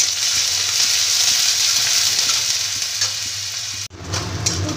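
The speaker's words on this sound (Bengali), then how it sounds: "কুচনো পেঁয়াজটা একটু ভেজে নেব।" Chopped onion frying in oil with cumin seeds, a loud close steady sizzle with faint rhythmic stirring scrapes, briefly dipping before resuming.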